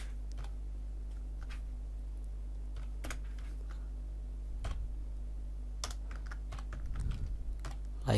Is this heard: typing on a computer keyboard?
yes